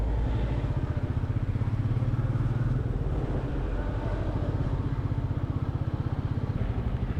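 A Royal Enfield Meteor 350 climbs the hairpin bends of the Yercaud hill road. Its steady, thumping single-cylinder beat is heard up close from the rider's position, with no talking.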